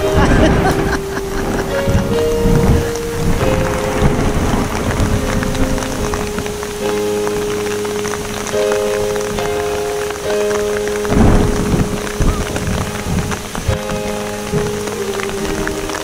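Heavy rain pours down on a surface in a dense, loud roar, with rumbles of thunder underneath and faint tonal sounds mixed in.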